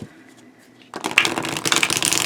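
A new Trionfi Della Luna tarot deck with flexible cardstock is shuffled up close: quiet handling at first, then a sudden burst of rapid riffling card flutters that carries on to the end.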